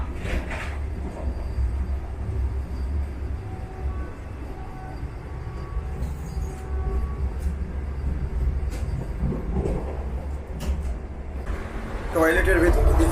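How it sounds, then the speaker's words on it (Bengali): The 22301 Howrah–NJP Vande Bharat train departs a station, rumbling steadily with low, continuous rolling noise and faint squeals; a voice speaks over it, and the rumble grows louder near the end. "এক মিনিট বাদেই কিন্তু ট্রেন এখান থেকে স্টার্ট দিয়ে দিল"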